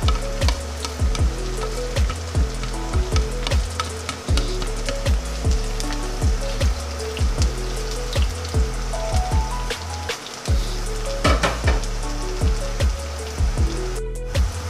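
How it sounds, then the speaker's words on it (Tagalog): Onion and garlic sauté in a pan beside beef, giving a steady close sizzle broken by regular scraping and stirring strokes of a utensil, with a few louder clinks toward the end. "Pwede natin isaute yung onion natin."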